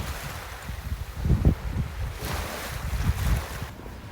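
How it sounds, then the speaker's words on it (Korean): Waves wash and break along a shore with low rumbling surges, mixed with gusty wind buffeting the microphone. "시원한 파도 소리도 듣기 좋았습니다."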